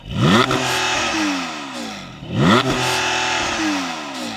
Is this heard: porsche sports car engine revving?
yes